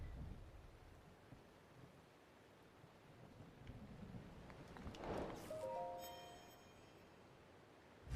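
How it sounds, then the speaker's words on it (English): A lightning strike crackles sharply during a thunderstorm in Breath of the Wild, rising out of quiet rain and low rumbling and fading away with a few ringing tones afterward. "We were waiting for the lightning to strike the mountain."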